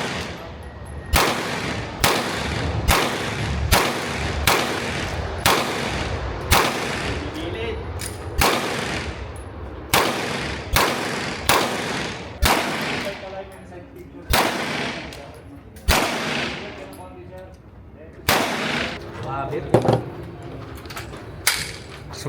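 Gunfire at a shooting range, over a dozen sharp loud shots at irregular intervals over about twenty seconds, each with a short decaying echo, with people talking in between.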